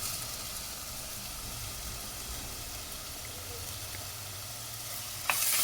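Ground tomato paste sizzles in a pan over frying garlic and onion for puli kulambu. A steady, even hiss carries throughout, and a brief sharp click comes near the end.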